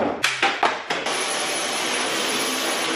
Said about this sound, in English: give it a good little vacuum and a mop